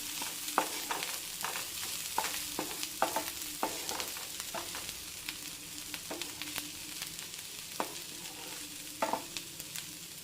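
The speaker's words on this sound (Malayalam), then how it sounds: "എന്നിട്ടൊന്ന് അടപ്പ് തുറന്ന് ഒന്നുകൂടി ഒന്ന് ഇളക്കി കൊടുക്കണം" Food being stirred in a pan on the stove after the lid is lifted, with scraping strokes of a spoon over a continuous frying sizzle, close and fairly quiet.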